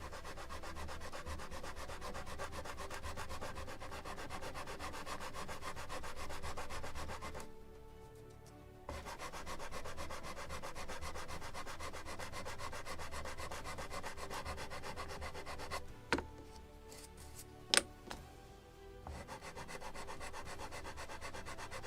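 Steady, close sanding of the wooden surface of a model 1776 gunboat Philadelphia, a continuous scratchy rub broken by two brief pauses and a few sharp taps near the end.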